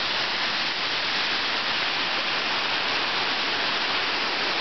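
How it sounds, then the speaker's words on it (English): Steady, dense rushing water from a waterfall, constant and fairly loud with no breaks and no voices. "See me climbing up the waterfall?"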